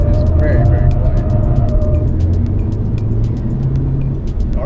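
Lexus RC F with a V8 engine cruises on the freeway, a low, subdued engine and road rumble with faint regular ticks from the road surface, heard under someone talking.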